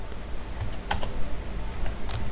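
Typing on a computer keyboard: a quick run of light, close clicks and taps at an uneven pace, with a few sharper key strikes, heard alone without talking.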